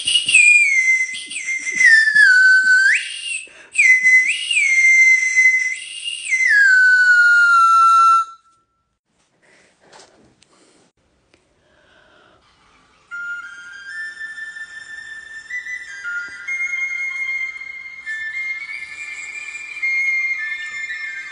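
A shrill candy whistle plays a slow melody in sliding notes, pauses briefly, then a second stretch of wavering whistled tones follows.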